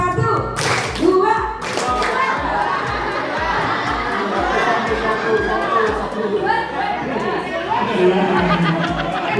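High school students in a classroom clapping in unison, sharp synchronized claps in a regular rhythmic pattern, with crowd chatter and talking throughout.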